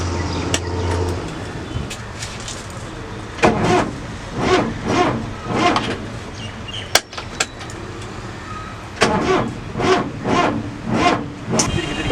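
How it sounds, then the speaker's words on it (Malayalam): A Willys military truck engine cranks over in rhythmic starter bursts, two separate attempts several seconds apart, close and loud, without catching into a steady idle. "അപ്പോൾ നമ്മൾ ഈ വണ്ടി സ്റ്റാർട്ടാക്കാൻ നോക്കി"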